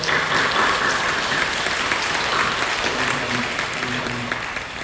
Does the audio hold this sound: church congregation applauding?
yes